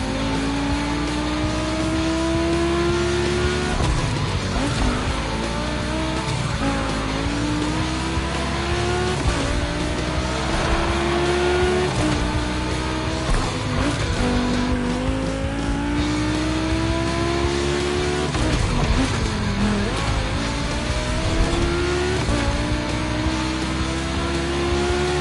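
Volkswagen cars racing on a track in The Crew Motorfest, engines revving and climbing through repeated gear shifts in a steady loud drone, with brief tire squeal and no talking.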